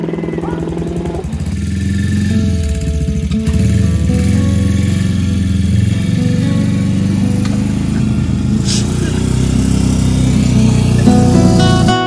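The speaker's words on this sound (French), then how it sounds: "il faut savoir qu'ils se déplacent souvent entre leur emplacement de camping et la plage, ou même entre les emplacements eux-mêmes avec leur quad." Quad bike engine running and driving around a campsite in Mexico, a loud, steady mid-pitched motor drone with slight revving changes, close by and continuous, with a few faint voices in the background.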